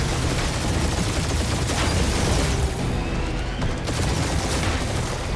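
Sustained, loud gunfire in Guardians of the Galaxy merges into a dense roar of shots and blasts, continuous for several seconds without pause and with no clear voices over it.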